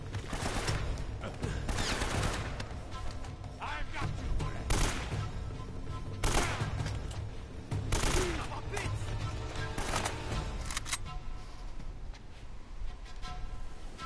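Gunfire from the action game Uncharted: Drake's Fortune: dense, continuous bursts and volleys of shots with explosive peaks, sustained at a steady loud level under a player's intermittent talk.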